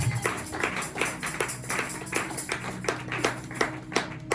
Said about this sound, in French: donne-moi un véritable amen avec des acclamations